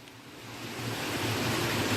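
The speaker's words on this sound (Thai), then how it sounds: "น้ำไหลผ่านลงบันไดชั้นใต้ดินด้วยความแรงและเร็วต่อเนื่อง" Floodwater from an overflowing Ping River surges steadily down basement stairs beneath a Chiang Mai market, a broad continuous roar of rushing water that swells slightly louder and holds without pause.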